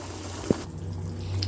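A small splash of water is poured into a bowl of leftover spices used for a mutton dish, giving one short soft splash and a faint trickle over a low, steady kitchen hum.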